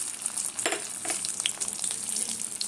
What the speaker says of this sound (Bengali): আলুটাকে প্রথমে ভেজে নেব